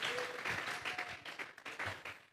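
A church congregation claps in praise, a dense burst of applause from many hands that swells and fades in waves over a couple of seconds, moderately close.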